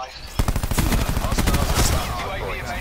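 Rapid automatic gunfire from a weapon in Black Ops 4 multiplayer Hardpoint, a quick loud burst of closely spaced shots lasting about a second and a half, then tapering into softer game noise.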